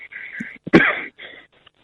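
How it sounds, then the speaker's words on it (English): A single sharp cough bursts out, preceded and followed by brief throaty, breathy sounds. "You're coughing."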